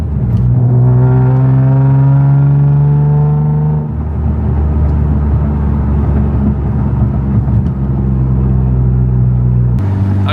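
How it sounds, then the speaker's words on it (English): A Nissan 350Z driving at night, heard from inside as a loud engine drone whose pitch climbs steadily through gears, drops at a shift, then settles into a lower rumbling cruise with road noise. "I'm just driving around"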